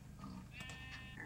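A few short bleats from a sheep in a farming video game, brief nasal calls over a low, steady background hum.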